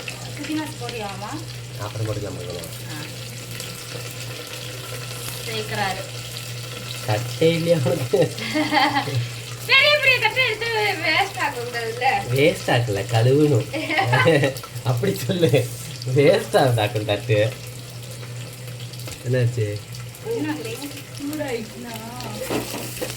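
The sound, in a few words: sautéing green chillies and onion in a pan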